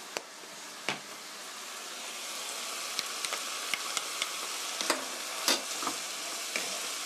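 Button mushroom rice bowl mixture, seasoned with pepper and sesame oil, is stirred in a hot pan, giving a steady sizzling hiss broken by scattered light scrapes and clicks of the utensil, with no talking.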